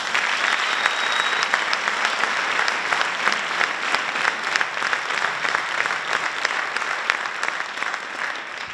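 A concert audience gives long, dense applause, with steady clapping and a few individual claps standing out, sustained for several seconds.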